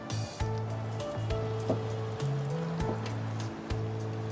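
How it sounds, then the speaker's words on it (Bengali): Garlic and onion paste frying in mustard oil gives a steady, close hiss of sizzling, with a low hum underneath and a few sharp clicks from the pan. "আমি এখন প্রথমে দিলাম হচ্ছে রসুন বাটা, পেঁয়াজ বাটা সরিষার তেলে। এটা একটু ভাজবো।"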